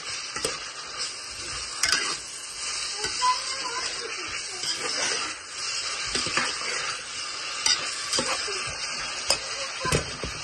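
Chopped onions sauté in a pan for a ridge gourd curry, with a steady sizzle and repeated stirring scrapes throughout, close and moderately loud.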